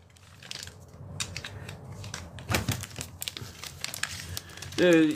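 Plastic wrap peeled off a mushroom growing kit, close crinkling and crackling film with sharp tearing rustles in irregular bursts, and a brief loud crunch near the end.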